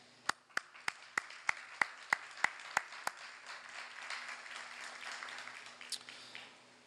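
An audience claps for construction workers at a downtown conference center topping out, with a run of crisp individual claps that gives way to softer, scattered applause spread across the room, faint and fairly distant.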